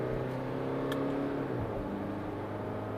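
A 2017 Jaguar F-Pace's turbocharged engine hums steadily from inside the cabin, its tone falling as a gear change comes through midway under a constant road drone.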